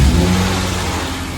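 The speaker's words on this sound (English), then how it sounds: "Dan, why don't you give it a start, see if there's vibration" A BMW E30 engine runs at a steady, fast idle right after starting, a loud continuous low rumble close by with no talk over it.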